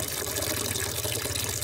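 Tap water gushes and splashes steadily into a container as it is fetched, a continuous close filling sound with no voices.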